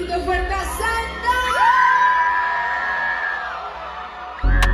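A crowd cheers, whoops and shouts to welcome a new female singer joining a music group, a loud sustained roar with high yells rising over it, cut off by a sudden thump near the end.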